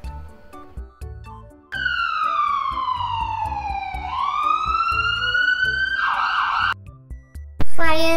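Ambulance bus siren: a long rising-and-falling wail sweeps loud and steady across most of the stretch, ending abruptly before a brief rapid warble, with a faint rhythmic backing beat underneath.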